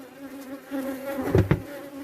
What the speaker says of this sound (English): a bee just going down my sleeve